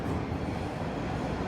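A northbound Toronto TTC subway train rumbles steadily through an underground station, with a dense, continuous low roar of wheels and motors throughout.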